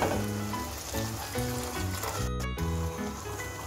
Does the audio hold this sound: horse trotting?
no